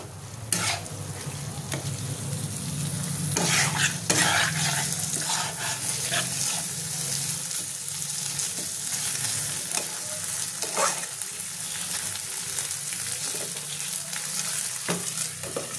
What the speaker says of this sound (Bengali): চিংড়ি মাছটা দিয়ে একটু ভাজবো